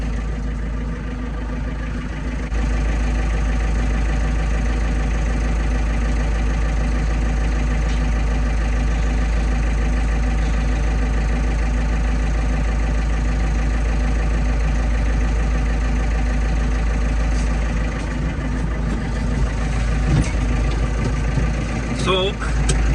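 A tractor engine runs steadily with no weight on the back during cow feeding outside, a constant low drone held throughout at close range, with faint extra noises near the end.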